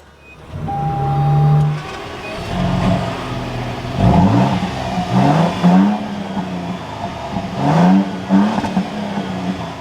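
A 2024 Toyota Tundra TRD Pro pickup engine cranks and catches, then revs several times in bursts, the exhaust rising and falling loudly nearby.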